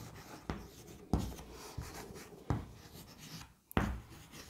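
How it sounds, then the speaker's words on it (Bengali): Pen writing on paper, close and quiet, with several distinct scratchy strokes and taps spaced about a second apart over light continuous scribbling. "লিখব আমরা একইভাবে"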